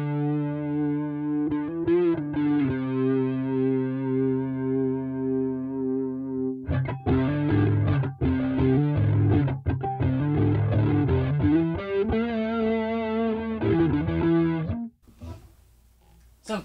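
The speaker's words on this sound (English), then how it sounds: "pretty good sounding chorus, and if you throw a distortion on with it" An electric guitar through a Boss Katana amp rings out with chorus, then switches to a gritty, distorted tone for a run of chords and notes before cutting off.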